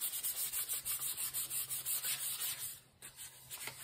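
Steady rhythmic sanding of wood on a banjo kit build, a rasping back-and-forth stroke repeating about every third of a second, close and continuous, slowing into a few scattered strokes at the end.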